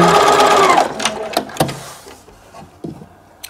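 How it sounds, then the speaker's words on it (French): A sewing machine stitches a fabric band laid along a dotted line, running loudly at first with a rhythmic whir, then slowing to a few scattered clicks and thumps as the seam ends. "je pose ma bande le long du trait pointillé. Et je fais ma couture."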